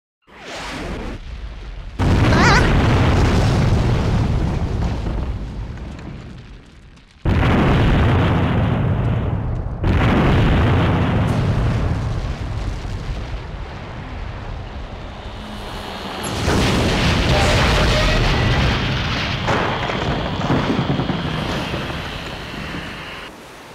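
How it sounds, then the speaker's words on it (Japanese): A long explosion in the bomb-defusal video game Suzuki Bakuhatsu rumbles and roars through several sustained, booming bursts that swell and cut out in stages, loud and with no talking. "長い割には地味な爆発だったのだ"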